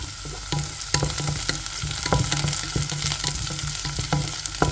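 Fried rice frying hard in a pan over high flame, a dense steady sizzle with scattered clinks and stirring scrapes, close and loud throughout with no talking.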